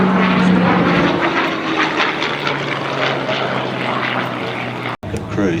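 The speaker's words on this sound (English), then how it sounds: "we just listen here to the sound of the Mustang taking off, that beautiful Merlin" A P-51 Mustang with its Merlin engine takes off at an RAAF airshow at Edinburgh AFB, South Australia, giving a loud, steady piston-engine roar with a droning propeller tone and a brief dip near the end.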